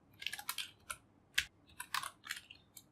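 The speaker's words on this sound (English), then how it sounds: "So let me just first type the code and you'll understand it." Code being typed on a computer keyboard, with quick, irregular clusters of close, crisp key clicks and short pauses between bursts, alone and at low volume.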